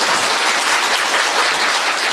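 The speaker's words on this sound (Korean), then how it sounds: "박수 한번 쳐보세요" Dense, loud applause from a large crowd at a Korean election campaign rally, steady and sustained throughout with no pauses.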